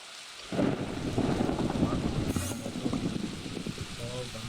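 Steady rainfall with a low thunder rumble in the Minecraft video game, rising abruptly after a quiet half-second and holding a dense wash throughout, with a faint voice underneath.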